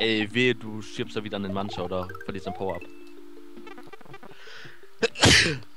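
A single sharp sneeze bursts out near the end. It follows a stretch of casual talk and chatter during a Super Mario Omega let's-play session.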